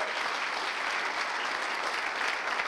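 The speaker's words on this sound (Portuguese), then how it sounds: "Uma salva de palmas para eles todos." Steady applause from a theatre audience, dense continuous clapping that stays loud and even throughout with no pauses.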